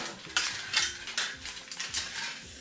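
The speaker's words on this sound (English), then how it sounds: "Give it a stir." A spoon stirring coloured sand in a container makes quick, close scraping and rustling strokes with light clinks of the spoon. The sound repeats in short bursts and stays fairly quiet.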